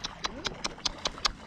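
Hooves of a horse on a farm clip-clop in an even walking rhythm, about seven sharp steps in a second and a half, fairly close, with faint voices nearby.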